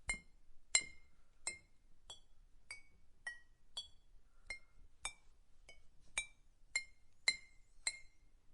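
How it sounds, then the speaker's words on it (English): A teaspoon taps softly on a glass in the Z.A.T.O. video game, a dozen or so clear, evenly spaced ringing clinks about every half second, quiet and isolated against near silence. "A teaspoon softly tapping on the glass again and again."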